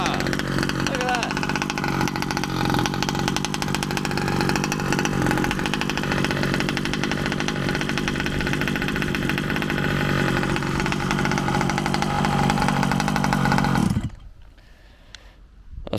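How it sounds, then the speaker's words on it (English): A rebuilt tractor engine runs loud and steady for about fourteen seconds at a constant idle-like drone, then cuts off abruptly, leaving near silence. "it's a rebuilt engine in that. That was the first time running it."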